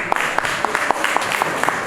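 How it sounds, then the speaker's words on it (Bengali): A concert audience at a Probasee Bengalee Association tribute concert claps for the co-anchor, a short burst of crowd applause with distinct individual claps standing out in an uneven rhythm. "অর্ণবের জন্য একটা জোরে হাততালি হবে"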